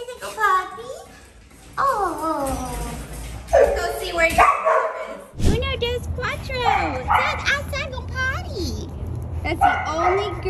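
Several rescued shelter puppies yip, bark and whimper in high, bouncy bursts, close and loud, with a person talking among them.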